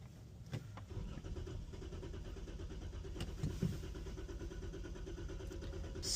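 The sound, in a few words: auction car engine starting up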